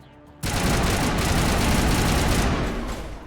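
Rifle gunfire in the game Mass Effect Legendary Edition starts abruptly after a short quiet moment, then runs as a dense, loud burst of rapid automatic shots for about two seconds before trailing off.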